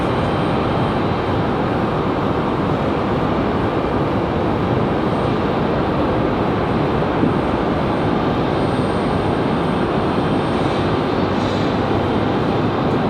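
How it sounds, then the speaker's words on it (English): An American Airlines Airbus A319 jet departs Raleigh Durham airport bound for Miami, its engines a loud, steady broadband roar that holds evenly throughout. "This American A319, American Airlines 2375 off to Miami"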